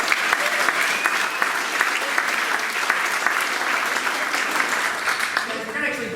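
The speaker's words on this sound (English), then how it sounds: "Clap for it." A live audience at a student pitch competition claps steadily and densely for about six seconds, the applause fading slightly near the end as a voice begins to come through.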